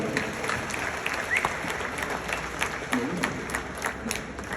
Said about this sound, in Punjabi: ਆਪਣੇ ਆਪਣੇ ਵਾਸਤੇ ਤਾੜੀ ਮਾਰੋ